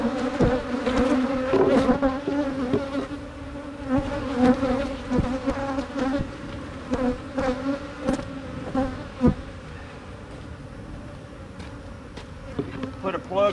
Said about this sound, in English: I got a few bees in this box we'll knock down in here.